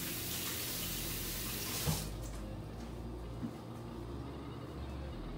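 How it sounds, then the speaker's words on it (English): Kitchen faucet running steadily while hands are washed at the sink, a loud broadband rush that shifts and softens about two seconds in, with a faint knock as the flow continues. "Let me wash my hands."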